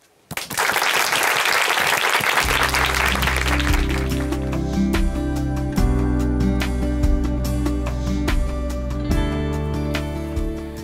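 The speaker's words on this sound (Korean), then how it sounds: "큰 박수로 모시겠습니다" Audience applause at a church testimony program in Chuncheon, welcoming a nurse to the stage; broad steady clapping starts abruptly and carries under a music track that comes in and holds to the end.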